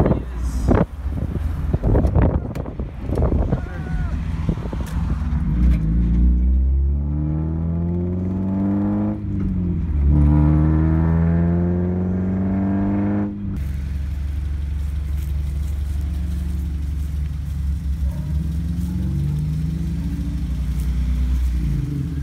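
K20-swapped Honda Integra being driven hard, its engine revving up and down in rising and falling sweeps, loud and close with wind noise, before settling into a steady drone.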